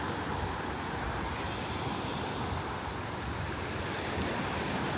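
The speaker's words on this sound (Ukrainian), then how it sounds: "І такі хвилі" Sea surf rolls in steadily on a Phuket beach where people are swimming, a continuous close wash of breaking waves with some wind noise across the microphone and no talking.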